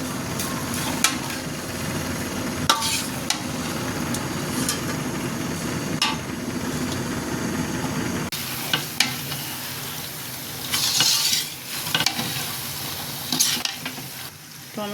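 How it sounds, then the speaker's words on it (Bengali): Mixed vegetables with dried fish and chopped tomato stir-fry in a pan, a steady sizzle broken by repeated clacks and scrapes of a spatula, with a brief louder burst partway through and no talking. "ভালো করে সবজিগুলো আরেকটু মিশিয়ে নেব। এখন দিয়ে দেবো কিছু টমেটো কুচি।"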